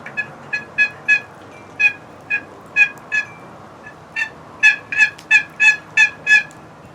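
A wooden turkey box call for hunting, scraped into a series of raspy, high yelps in uneven bursts, close and loud, building to a quicker run of yelps near the end.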